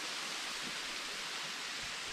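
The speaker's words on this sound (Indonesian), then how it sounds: "Ah guys, sudah ada air terjun." Waterfall on a steep mountain trail up Talamau, its water crashing into a deep ravine and heard as a steady, broad rushing wash with no breaks and no talking.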